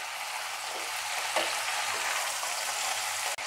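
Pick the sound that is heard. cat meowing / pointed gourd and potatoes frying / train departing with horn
pointed gourd and potatoes frying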